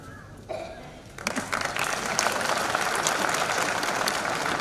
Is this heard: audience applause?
yes